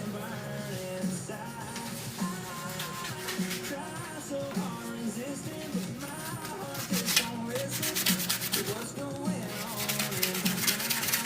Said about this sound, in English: Let me sand these real quick.